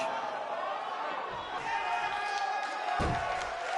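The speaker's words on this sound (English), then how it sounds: "We have a sold-out, record-setting crowd here for BCW tonight." A sold-out wrestling arena crowd in a PS4 game keeps up a steady roar and chatter, broken by a couple of sharp thumps or slams near the end.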